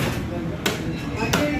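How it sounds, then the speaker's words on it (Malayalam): A knife cuts through a stingray, two sharp, quiet chopping strikes spaced well apart over a soft background. "അപ്പോൾ ആശ തെരണ്ടി മുറിക്കുന്നൊരു ഇതാണ് കേട്ടോ."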